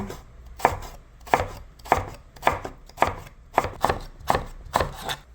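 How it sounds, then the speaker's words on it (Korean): A knife slices a halved Korean melon thinly on a cutting board, eight crisp, evenly spaced chops in a steady rhythm, close and clear. "반절 자르고 이 사선으로 이렇게 얇게 얇게 쓸어 주세요"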